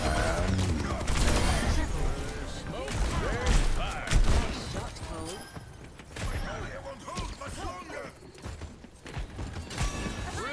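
Video game gunfire crackles in repeated bursts over busy, layered game effects and clanks, loud and continuous, while a person talks through much of it.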